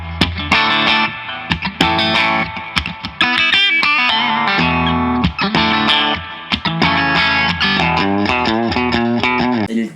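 A 1993 Ibanez JEM77GMC electric guitar on its treble pickup with a clean tone, played loud and up close in a steady run of strummed chords and picked notes that ring with bright, shimmering sustain, no voices.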